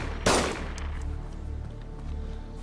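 A loud gunshot cracks out near the start in DayZ Standalone, followed by softer rapid shots and echoes further off against a steady background hum.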